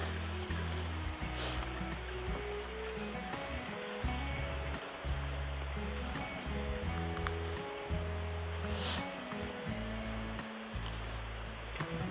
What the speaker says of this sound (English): Crossing another little creek.